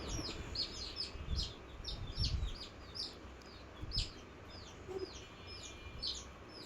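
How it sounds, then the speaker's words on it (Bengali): Many high, thin peeps from tiger chicken chicks repeat rapidly throughout, layered over low rustling and handling noise close by. "এটা হচ্ছে টাইগার মুরগির বাচ্চা"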